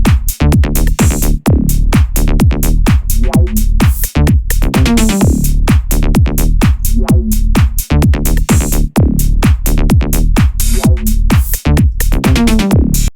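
Recreated bass line for a track, made in Ableton: a loud, dense repeating pattern of punchy gliding bass notes with sharp drum hits, steady and continuous without pauses.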